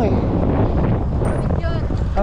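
Strong headwind buffets the microphone as a cyclist pedals on a long road ride from Manila to Pagudpud, a loud continuous roar of wind rumble with a voice speaking briefly near the end.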